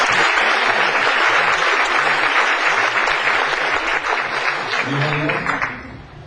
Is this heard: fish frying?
no